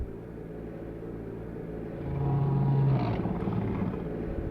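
Boiler activating in Silent Hill, a low mechanical rumble that swells into a droning tonal whine for about a second before settling back to a steady hum.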